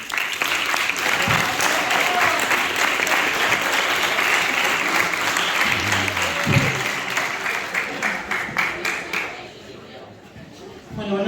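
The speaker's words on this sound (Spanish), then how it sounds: "Un aplauso." An audience applauds at a meat-industry congress in Vitigudino, Salamanca, with sustained loud clapping that thins into scattered claps toward the end, and some chatter underneath.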